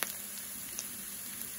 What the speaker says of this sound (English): Now let the jeera sizzle a little bit so it cooks